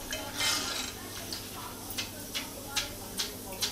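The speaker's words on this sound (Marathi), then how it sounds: "बघा आवाज इलो तिचो कुरकुरीतपणाचो" Crispy fried corn chivda rattles in a metal pan with a series of sharp clinks and scrapes at irregular intervals, close up over a low background hum.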